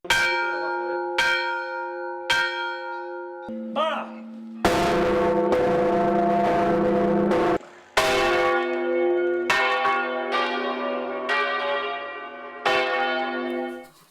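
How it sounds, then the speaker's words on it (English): Large church bells ring out in a series of resonant strikes from a fixed, stationary bell, each clang leaving a long humming decay that overlaps the next. "the second bell that's going to be rung"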